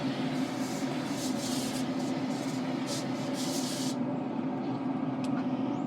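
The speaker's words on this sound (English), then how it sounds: "I wanted to spray these down with some Wagyu beef tallow, because smoke sticks to fat." Wagyu beef tallow being sprayed onto beef dino ribs for a pellet grill smoke, a continuous hissing spray over a steady background hum, stopping partway through and leaving the hum alone.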